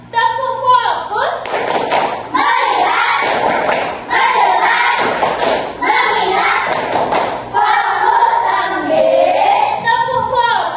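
Pupils in a classroom perform a 'tepuk fokus' clapping routine: crisp, patterned bursts of many hands clapping together, loud and near, with group chanting and voices running through it.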